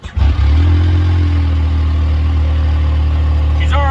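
A 2017 Yamaha YXZ1000R SS side-by-side, already warm, cranks and fires up with a short burst, then settles into a loud, steady, close idle, with a faint rising whir at the very end.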